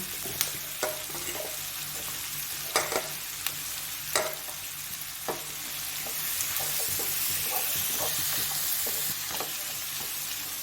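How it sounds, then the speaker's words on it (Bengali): Green capsicum and red and yellow bell peppers stir-frying with mushrooms in butter and garlic, a constant close sizzle dotted with scattered clicks and scrapes of a spatula in the pan. "আমি এবারে সবুজ ক্যাপসিকাম আর লাল হলুদ বেল পেপার দিচ্ছি"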